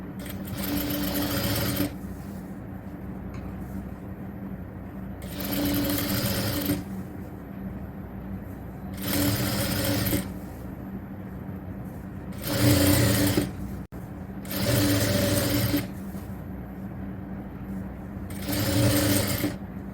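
Sewing machine stitching the folded edges of fabric frills for a nighty, running in six short loud bursts separated by pauses, close and clear.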